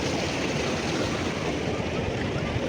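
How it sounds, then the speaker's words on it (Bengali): Sea waves at Digha beach make a steady, loud wash of surf that blends with wind rush, unbroken across the whole stretch. "এদিকে ঢেউটা অনেকটা কম, ওইদিকে ঢেউটা প্রচুর।"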